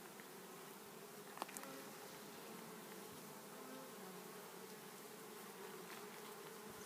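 A low, steady hum of many bees buzzing close by, constant and faint, with a couple of tiny clicks.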